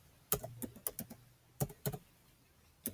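Someone types a short search on a Chromebook keyboard: a quick, close run of light key clicks in small uneven bursts, with nothing else heard.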